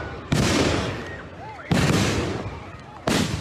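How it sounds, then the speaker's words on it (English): Three loud flashbang blasts go off at a street protest, each a sharp boom trailing into a long rumbling echo, spaced about a second and a half apart, with crowd noise between them. "we have flashbangs going on"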